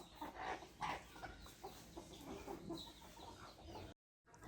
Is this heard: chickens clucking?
yes